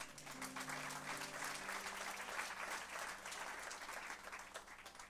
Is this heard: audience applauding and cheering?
yes